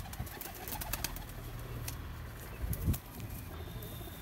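Pigeons coo softly nearby, low burbling calls rising briefly over a quiet background hum.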